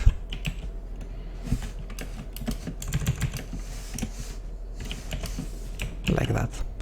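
Programming code being typed on a computer keyboard: quick irregular clusters of close key clicks with brief pauses, fairly quiet and steady throughout.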